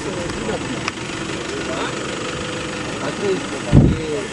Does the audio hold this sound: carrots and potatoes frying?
no